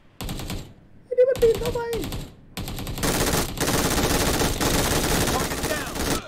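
Bursts of automatic gunfire in PUBG Mobile, short volleys at first, then sustained rapid shooting filling the second half, with a voice talking over the early shots.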